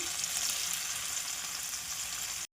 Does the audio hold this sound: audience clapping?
no